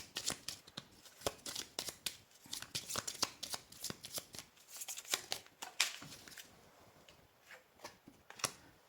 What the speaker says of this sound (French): Donc on va aller tirer 5 cartes en plus.